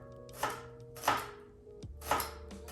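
A knife chops through vegetables on a cutting board in a home kitchen while brunch is made, four firm, evenly spaced strokes landing close by against a low background hum.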